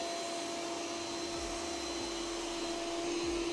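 An Ecovacs Deebot Ozmo T9 robot vacuum cleaner runs with a steady, even whir and hiss and a constant tonal hum, holding at an unchanging level throughout with no voices.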